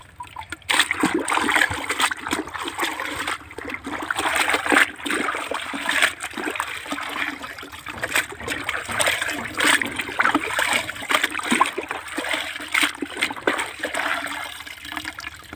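Water runs and splashes over a computer CPU and motherboard as it is washed, a steady close rushing stream with irregular splatters throughout, with no speech over it.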